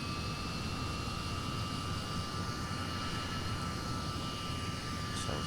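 De Havilland Comet 4C jet airliner taxiing in Flight Simulator X, a steady loud engine roar with a constant whine held throughout, close and unbroken, with no talking.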